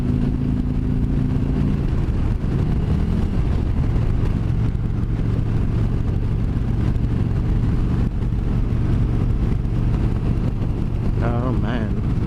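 A motorcycle out on its first ride of 2017 roars close and loud as the rider accelerates, its engine note climbing over steady wind rush.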